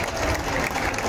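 Brief burst of thick crowd applause at a BJP political rally, welcoming party vice president Bharti Didi. Even and unbroken for about a second.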